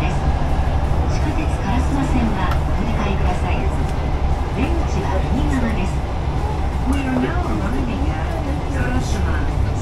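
Hankyu PRiVACE train running toward Karasuma station, heard from inside: a steady rumbling hum of the moving carriage with rattles and varying motor whine, continuous and moderately loud.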